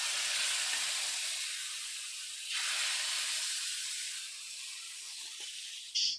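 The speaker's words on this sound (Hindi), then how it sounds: "इसके बाद मैं लगा रही हूँ जी इसमें ऊपर से तड़का।" Tadka of cumin, asafoetida and kasuri methi sizzling in hot oil for kadhi, a loud continuous frying hiss that dips briefly midway, ending in a short sharp burst.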